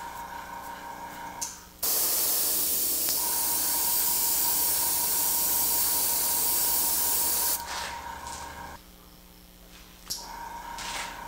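An airbrush sprays paint onto a turned wood bowl, a loud steady close hiss lasting about six seconds, with fainter compressor-like hissing before and after.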